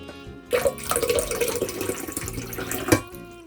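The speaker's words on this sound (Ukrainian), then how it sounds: "додаю трошечки тепленької з чайничка." Warm water pours from a kettle into a container, a steady close splashing trickle starting after a short moment, then tapering off.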